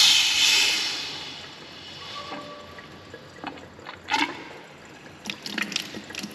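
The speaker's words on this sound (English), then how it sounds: "So right now this tank is filling up with water." Water rushing into a reverse osmosis storage tank, a loud hissing flow at first that settles into a softer trickle, broken by several short splashy gurgles and knocks near the end, with no talk.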